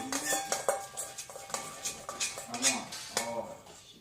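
Homemade slime stirred in a bowl with a utensil, repeated clinks and scrapes of metal against the dish in an uneven rhythm, close up, with people talking over it.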